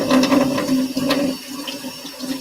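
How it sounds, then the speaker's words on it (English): Water runs and splashes steadily as dirt is rinsed off, with a tonal hum under the flow for the first half before the stream softens and thins out. "rinsing them off, getting the dirt off."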